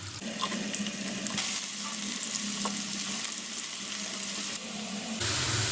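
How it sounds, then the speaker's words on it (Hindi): Onions frying in hot vanaspati ghee for matar pulao: a loud, steady hiss and sizzle close by, with light stirring and a brief drop in level near the end. No one speaks. "प्याज इसमें डाल के प्याज को हल्का ब्राउन कर लेंगे"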